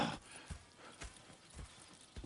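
Horse hooves clip-clop at a steady walking rhythm in the Red Dead Redemption video game, with a brief whinny-like tone at the start, fairly quiet and with no talk over it.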